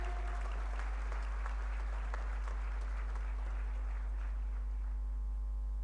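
Audience applause welcoming the Honorable Minister at an international conference of drug regulatory authorities, a steady wash of clapping across a large hall that gradually thins and fades toward the end over a constant low hum.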